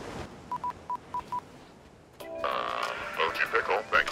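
Five short, evenly spaced touch-tone beeps sound as a phone number is dialed in PUBG, followed after a pause by a busier burst of game sounds.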